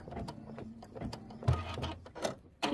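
An embroidery machine stitches a Kimberbell blueberries quilt block, a rapid mechanical chatter with rhythmic thumps and whirring, close and steady with no talk.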